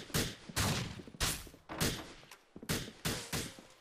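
Gunfire in GTA IV video game, six or seven sharp, heavy shots in an uneven rhythm, each ringing out briefly before the next, close and fairly loud with no talking.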